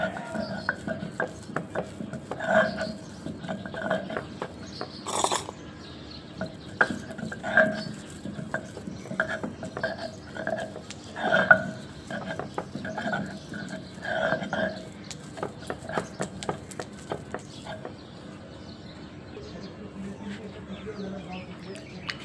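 Cooked rice is ground on a flat grinding stone (pata) with repeated rolling, scraping strokes in uneven bursts, with a voice speaking intermittently and faint birdsong in the background.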